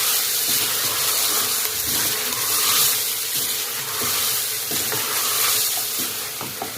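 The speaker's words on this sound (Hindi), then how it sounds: "मैंने काट लिए थे टमाटर, इनके साथ थोड़ा सा भून लूँगी" Chopped tomatoes with salt, red chilli and spices sizzle and fry steadily in a pan, with a continuous loud hiss and occasional stirring scrapes close by.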